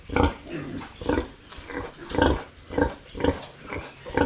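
A sow that has just farrowed grunts in a steady series of loud, close bursts, about six in a row, each a short rough snort with brief pauses between.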